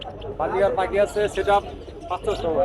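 Caged lovebirds and other birds for sale at the Hemayetpur bird market coo and chirp close by in short repeated calls, mixed with people talking nearby.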